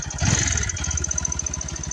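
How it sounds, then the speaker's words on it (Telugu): A Bajaj NS 160 motorcycle with nearly 50,000 km on it idles at a service stop, its single-cylinder engine putting out a steady close-up thumping pulse with a metallic whine above it and no talk. "ఇంజన్ సౌండ్ ఒకసారి చెక్ చేసుకొని"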